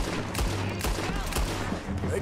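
Pistol gunfire in the Red Dead Redemption 2 video game, several sharp shots cracking in quick succession amid a busy fight.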